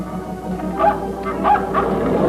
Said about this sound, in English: So the dog is trying to tell Jonesy that he should hurry into Bobby's room